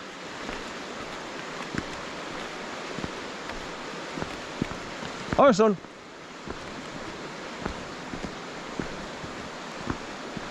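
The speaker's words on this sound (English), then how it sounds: "this is the bend in the river where it gets forced against the side here" Steady broadband rush of a river pressed against built-up stone walls at a bend in Haltwhistle Burn, close and continuous, with a brief spoken greeting partway through.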